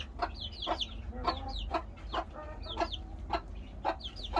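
Several small bantam chicks cheep in quick, high overlapping peeps close by, with a few soft flutters of wings under a steady low background hum.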